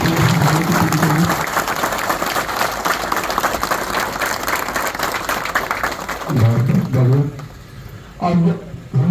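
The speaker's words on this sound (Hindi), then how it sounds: "जोरदार तालियों के साथ हम लोगों का धन्यवाद ज्ञापन" Loud, sustained applause from a crowd at a police lines ceremony in Bhagalpur, steady clapping filling most of the stretch, with a voice speaking briefly at the start and again near the end.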